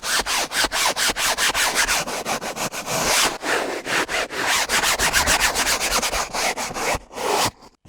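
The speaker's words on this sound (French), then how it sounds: "Donc maintenant, on va brosser cette partie-là." Stiff brush scrubbing a car's interior surface with Turtle Wax cleaner, a fast rhythmic back-and-forth rubbing that runs steadily and close, with no voices, then stops near the end.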